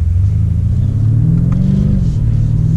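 A BMW M5 Competition F90 rumbles while being driven gently, its deep, loud engine tone rising steadily in pitch as the car accelerates, heard close and without voices.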